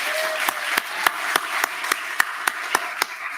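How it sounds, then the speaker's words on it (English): Steady rhythmic clapping at a charity gala, sharp evenly spaced claps over a dense wash of crowd noise, with no break in the beat. "Let's have another round of applause for Dr. Paul Feuerstadt and Kiki Buckley."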